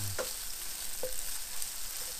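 Kedgeree ingredients frying in a pan, a steady bright hiss of sizzling fat close up, with a couple of brief utensil clicks against the pan.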